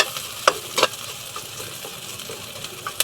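Mussels cooking in a pan, a steady soft sizzle with a few sharp clicks and scrapes of stirring, close and moderately loud with no talking.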